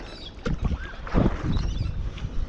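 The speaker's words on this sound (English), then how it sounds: "Let's paddle out like this." Kayak paddling on an estuary: close splashes and drips of a paddle dipping into water, with light knocks against the hull and some wind buffeting the microphone.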